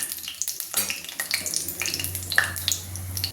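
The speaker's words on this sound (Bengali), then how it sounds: "এবার আমি সরাসরি আলুটা তেলের মধ্যে দিয়ে দিই।" Cut potatoes dropped straight into hot oil already seasoned with cumin, cardamom, cinnamon and dried chillies, a close burst of sizzling and crackling frying with clatter from the pan, loud and continuous.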